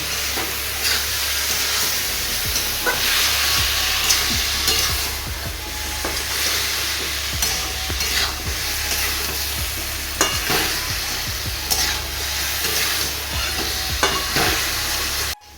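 Salted food with turmeric is turned in a frying pan, a steady close sizzle under repeated scraping strokes and light clinks that continue throughout.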